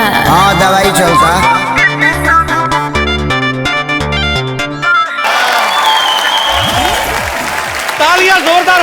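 A studio audience at the Kapil Sharma Show breaks into loud, sustained applause after a burst of music, the clapping dense and continuous to the end.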